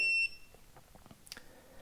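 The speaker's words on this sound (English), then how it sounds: "And it'll beep each time something fires on this module." A FireTEK FTQ-16x64 firework firing module gives a short, sharp electronic beep at the start, followed by faint clicks and handling noises in a quiet room.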